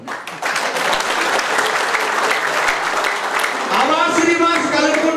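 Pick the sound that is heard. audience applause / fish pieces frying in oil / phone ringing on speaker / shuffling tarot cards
audience applause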